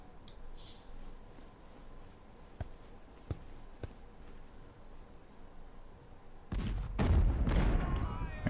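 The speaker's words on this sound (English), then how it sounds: "get some counter battery fire onto them" Cannon artillery fire in the Ultimate General: Civil War video game: a few sharp, distant booms spaced a second or so apart over a steady battlefield hiss, then a louder, dense cluster of blasts and rumbling near the end.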